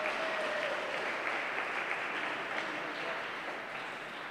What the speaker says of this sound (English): Ladies and gentlemen, big round of applause for the players there.